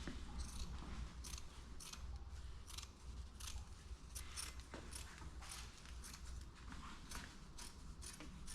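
Scissors snip burlap around the spring edge of a 1967 Shelby GT500 Mustang seat, giving repeated faint crisp cuts and light rustling over a steady low background hum, with no voices.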